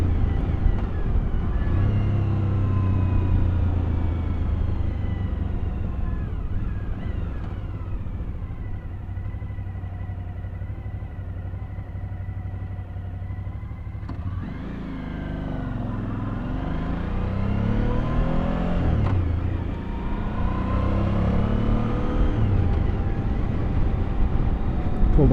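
A motorcycle rides along a road in 120°F heat, its engine droning steadily and rising and falling in pitch as it changes speed, with wind rush throughout and brief speech mixed in.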